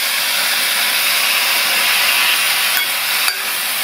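Water hits vegetables in a hot pan during Tamil-style poriyal cooking, giving a loud, steady broadband sizzle and hiss that holds evenly for nearly four seconds, with a couple of faint clicks near the end and no voices.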